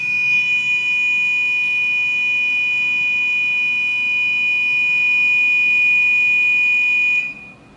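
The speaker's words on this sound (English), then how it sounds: "We put in the temporary code, which is 1234, and it shuts the alarm off." A microcontroller-based alarm system sounds a loud, steady high-pitched electronic tone that holds for about seven seconds before cutting off abruptly after a keypad code is entered.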